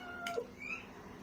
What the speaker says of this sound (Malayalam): പൂച്ച എവിടെ?